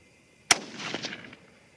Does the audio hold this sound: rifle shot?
yes